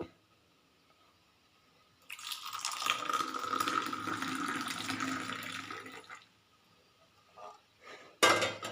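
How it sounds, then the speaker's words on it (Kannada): Milk pouring for filter coffee: a quiet start, then a steady liquid stream running for about four seconds before stopping, followed by a couple of soft clinks and a sharper clatter at the end. "ಈಗ ಈ ರೀತಿ ಹಾಲನ್ನು ಹಾಕಬೇಕು"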